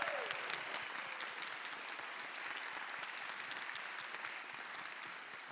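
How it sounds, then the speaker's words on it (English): Audience applause for the actors after a premiere performance, steady and continuous clapping from a crowd heard at a moderate distance and fairly soft throughout. "one last big round of applause for their performance tonight"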